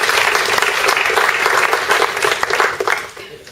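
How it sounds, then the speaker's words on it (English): Sustained audience applause at an interfaith event in Birmingham, dense and loud, filling the hall and tapering off near the end. "I need my clapping there."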